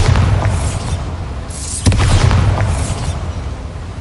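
Bombarda blasting spell from a Harry Potter video game, loud booming explosions with a sharp burst near the middle and rumbling low-end continuing throughout, with no talk.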